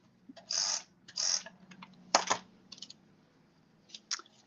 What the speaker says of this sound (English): I'm going to put some tape on this back here